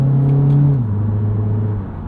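A 2008 Mitsubishi Eclipse Spyder convertible with a 4-speed automatic in manual mode downshifts, its engine note jumping up into a loud, steady rev before settling back down, heard up close from inside the car.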